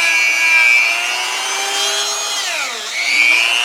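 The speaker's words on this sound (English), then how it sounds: "Rotary tool with a felt polishing wheel with some white compound," A rotary tool spins a felt polishing wheel loaded with white compound against a bearing, giving a steady high-pitched whine that dips and recovers as pressure on the part changes, loud and close with no talk.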